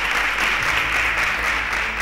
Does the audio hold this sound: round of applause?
yes